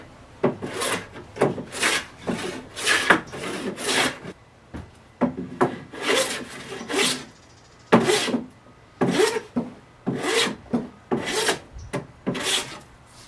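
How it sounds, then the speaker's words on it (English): A hand plane smooths rough, mill-marked wooden boards with repeated rasping strokes in an uneven rhythm, each stroke a loud close scrape separated by short pauses. "My first job in planing was to smooth the surfaces of the boards"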